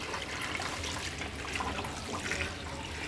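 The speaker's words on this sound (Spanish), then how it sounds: "si son 2 kilos de manteca, echar 2 litros de agua" Water being poured into a pot of lard for cooking carnitas, a steady, continuous rushing splash that holds an even level throughout with no voices.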